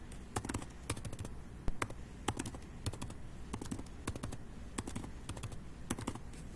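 Keys clatter on a computer keyboard in steady, irregular bursts of close, crisp taps as someone types a line of code, with no talking.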